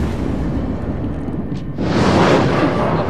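A battleship fires a gun salvo in World of Warships, the French tier V Bretagne, breaking out as a loud, rumbling boom over a steady low roar of engine and sea.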